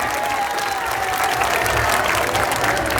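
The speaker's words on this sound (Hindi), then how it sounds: "जोरदार तालियों से इसका उत्तर मिलना चाहिए हमें" Audience applause at an outdoor Ramlila performance, a thick continuous wash of clapping with a crowd murmur underneath, steady and fairly close for the full stretch.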